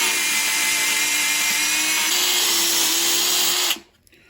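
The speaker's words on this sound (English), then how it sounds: "we can take these off so that it'll flusher with a little mini chainsaw." A small mini chainsaw cuts away deadwood stubs on a Japanese white beech bonsai, giving a steady, close, high-pitched motor whine with a slight pitch rise partway through, then stopping abruptly near the end.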